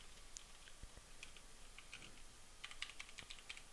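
Fingers tap out an email address on a computer keyboard, a quiet, uneven patter of light clicks that speeds up toward the end over faint room noise.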